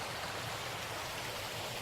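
A stream flowing below a woodland trail in South Wales, heard as a steady, even rush of water throughout with no breaks and no voices.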